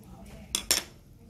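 Sugar spooned into a glass over ice for an iced milk coffee, giving two quick metallic spoon clinks against the glass close by in a quiet room.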